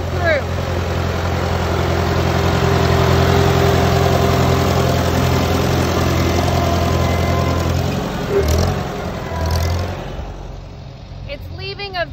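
A field machine cutting away leftover dahlia stalks along the rows rumbles with a steady, mid-loud engine drone. Its pitch dips and surges near the end, and a voice talks over it.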